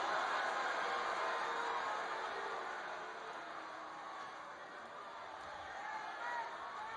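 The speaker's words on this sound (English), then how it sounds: "Listen to the crowd." A wrestling arena crowd at WWE SmackDown roars as a broad, steady wash of noise, distant and continuous, with commentary voices faintly underneath.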